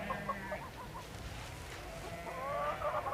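Live village chickens clucking close by in a short burst of repeated calls, with some rustling in the background and a louder stretch of clucking toward the end.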